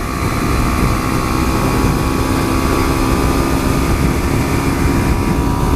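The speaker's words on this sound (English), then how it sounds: "I think it's just freaking windy out." Steady, loud roar of wind buffeting a rider on a Ninja 300 motorcycle at freeway speed, continuous broadband rush mixed with engine drone throughout.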